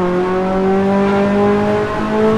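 Ferrari 288GTO or F40 drifting in a racing video game: a loud, steady engine drone holds a sustained rev with slowly shifting pitch, and a faint tire scrub runs underneath, continuous and close throughout.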